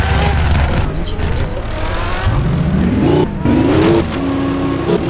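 A light, fast-accelerating car in a Roblox game revs up through rising engine tones, with brief gear-like drops and whirring, loud and continuous, while a voice talks faintly underneath.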